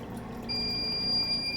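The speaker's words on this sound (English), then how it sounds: "the alarm goes off saying the backup pump's working" A home backup sump pump alarm sounds a steady, high electronic tone that starts partway through and holds, fairly quiet, over a low pump hum, with no talking.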